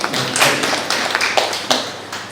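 A few students clapping at a Republic Day pattimandram debate event, a sparse scattering of hand claps spread over a couple of seconds, moderately close and uneven.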